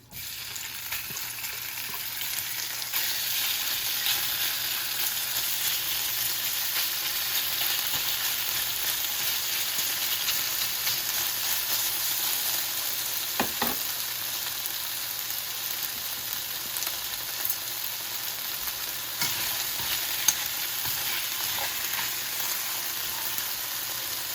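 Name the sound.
marinated beef frying in oil in a hot pan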